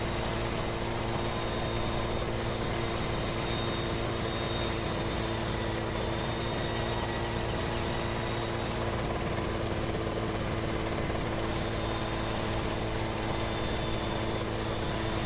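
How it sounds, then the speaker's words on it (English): A helicopter in Farming Simulator 2017 drones steadily throughout, a constant whirring rotor and engine hum with a faint high whine, no voices. "I love flying my helicopter when I'm not farming."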